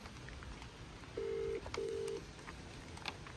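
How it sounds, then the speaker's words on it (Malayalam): A phone call is placed on speakerphone: two short, even ringing tones sound one after the other over a quiet room hiss. "ഫസ്റ്റ് ടൈം ഞാൻ വിളിക്കാൻ പോവുകയാണ്"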